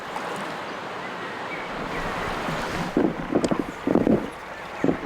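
Rough, choppy water on the River Severn churning steadily alongside wind buffeting the microphone, with a few louder splashing bursts toward the end and no talking.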